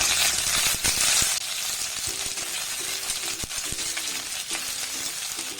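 Diced onions frying in oil for kootu curry, stirred with a loud hiss at first that settles into a steady sizzle broken by repeated sharp ladle clinks against the pan.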